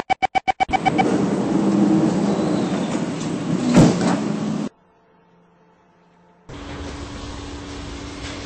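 Metro train doors on a city line closing: a rapid series of loud clacking beeps opens, then a steady whooshing mechanical slide and clunk before a brief quiet lull and renewed low rumble of the stationary train.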